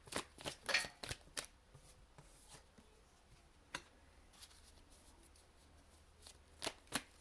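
Rider-Waite tarot cards are shuffled by hand in close, quiet bursts of riffling and soft slaps, scattered irregularly across a hushed room.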